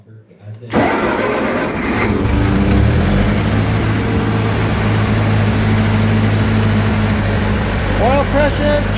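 Engine of a 1941 Ford 9N industrial tractor cranking and catching after a brief rattling start, then settling into a loud, steady idle rumble close by.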